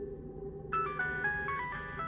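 A phone ringing in the horror video game Araya: after a low hum, a bright electronic ringtone starts and repeats in short melodic bursts, fairly clear and alone.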